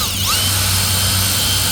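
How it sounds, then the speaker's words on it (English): A power drill bores out a tire puncture hole after the foreign object is removed, a loud, steady, high whine running close up without a break. "Get your drill,"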